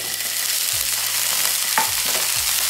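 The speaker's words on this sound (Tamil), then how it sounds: "இப்போ நம்ம ப்ரோக்கலி ஆட் பண்ணிடலாம்" Broccoli stir-fried with chicken and capsicum in a hot pan, a steady loud sizzle running throughout, broken by a few scraping stirs and a brief clatter near the middle; no one speaks.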